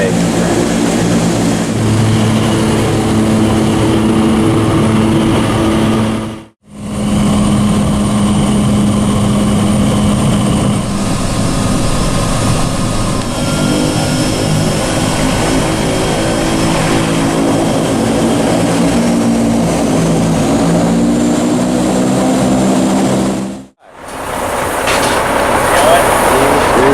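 A propeller aircraft engine, a bush plane on a Canadian fishing trip, roars loud and steady at close range, its droning buzz cut by two brief dropouts.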